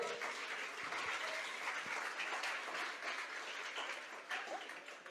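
A large church congregation applauds steadily, a dense wash of clapping that stays even for several seconds without voices.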